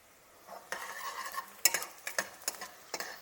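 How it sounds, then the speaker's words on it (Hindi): Tempering (tadka) in a pan, soft crackling sizzle with a spoon scraping and clinking against the metal in quick irregular strokes, close by and fairly quiet. "तो इधर तड़का हो गया तैयार"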